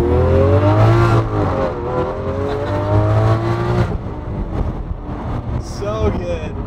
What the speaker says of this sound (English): These downshifts.